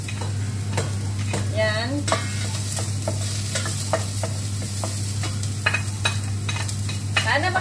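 Garlic and onion frying in a pan over lowered heat, with a constant close sizzle and spoon strokes clicking and scraping against the pan at an irregular pace; a voice speaks briefly.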